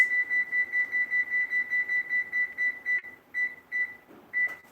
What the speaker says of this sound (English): All right, we're going to set our timer.